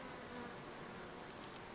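Honeybees buzzing at a hive entrance, a dense steady drone of many wings filling the clip, close and continuous with no pauses.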